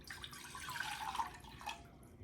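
Water trickles and splashes into a container as two cups are measured out for boiling, a faint, short, uneven pour with small drips and no talk.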